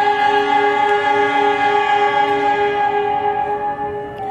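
Argo Dwipangga train departing Mojokerto station in Indonesia sounds a long, steady, loud horn, holding one sustained chord before fading slightly at the end, with no speech.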